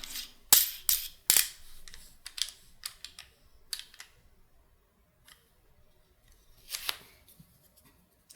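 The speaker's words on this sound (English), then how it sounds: "We're going to put the recoil spring guide rod in." Sharp plastic and metal clicks and snaps as a recoil spring guide rod is fitted into the slide of an airsoft Glock 19, a few loud close clicks followed by softer scattered handling taps.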